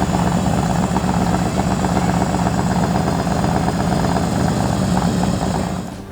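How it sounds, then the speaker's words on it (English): An S&S Super E/G carbureted motorcycle engine runs at a steady, loud, close idle with a dense rhythmic rumble that barely changes, fading slightly at the end. "we're going to start the bike and let it warm up"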